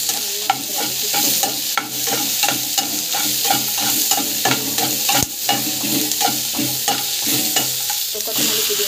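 Tomato, onion and garlic sautéing in a pan for a mint chutney, with a steady close sizzle and repeated clicks of a spoon stirring through the whole stretch.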